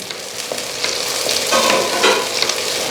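Finely chopped ginger and sliced green chilies frying in hot oil in a pan for a pearl spot fish curry, a close, continuous sizzle with crackles and stirring scrapes.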